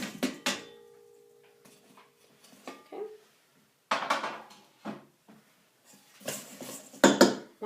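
Garlic rounds shaken in a covered pan to coat them in sauce, heard as several bursts of rattling lid and sliding, clattering pieces with quiet gaps between, close and moderately loud.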